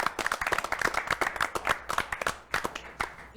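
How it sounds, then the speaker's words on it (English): Dense applause from an audience at an Indian business talk event, many hands clapping at once in a steady, fairly close rush for a few seconds, swelling and easing slightly near the end. "Let's give all of you a big round of applause."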